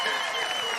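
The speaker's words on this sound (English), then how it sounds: "Round of applause there for" Outdoor crowd clapping at the Peak District Highland Games after a strength event, a brief burst of continuous applause under a faint voice.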